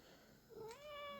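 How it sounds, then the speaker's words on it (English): A domestic cat gives a single short meow, rising then sliding in pitch, fairly faint against a quiet indoor background. "if you can hear the meow, that's my cat"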